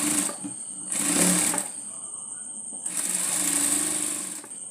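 A sewing machine runs in two bursts, stitching the folded side edge of a nightie neckline. A short run comes first, then a pause, then a longer steady run. It whirs close and clear with no talk.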